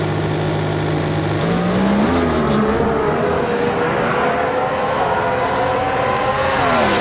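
A drag race car built from a front-wheel-drive 2005 Chevy Cavalier supermod launches, its engine roaring loud and rising steadily in pitch as it accelerates down the strip, with no voices over it.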